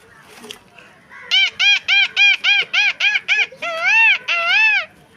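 A boy imitates a bird call with his voice, giving a quick series of about nine short, rising and falling whistled hoots, then two longer drawn-out ones, loud and close after a brief quiet lead-in.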